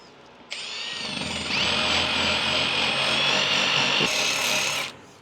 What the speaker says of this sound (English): Like I said, I have it chucked up in my drill.